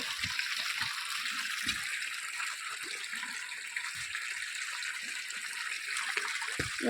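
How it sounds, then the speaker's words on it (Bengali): Water poured into sand for a new house foundation while a rod pokes it, a soft continuous watery hiss with irregular low thuds and squelches from the poking, faint and outdoors. "আর তোমাদের দাদাভাই রড দিয়ে খুচিয়ে খুচিয়ে জল দিচ্ছে বালির মধ্যে"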